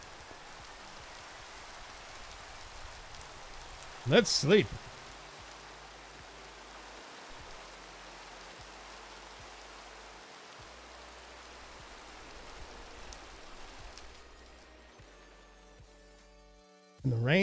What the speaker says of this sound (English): See, it's raining again.